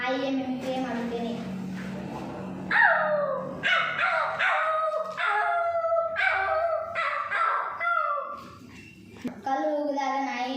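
A voice imitates a dog, giving a string of sharp barks, yips and a short howl in an irregular rhythm, loud and close, with brief voiced sounds before the barking starts.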